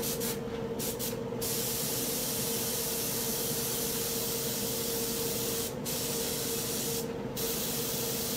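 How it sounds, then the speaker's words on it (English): Spray paint hissing in a light overspray onto a tumbler, a loud continuous close spray with a faint tonal whine and a few brief dips where the nozzle lets up. "A light overspray will touch the tips."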